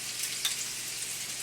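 Polish kielbasa sausages browning in a frying pan make a steady close sizzle with a faint crackle, alone and without talk.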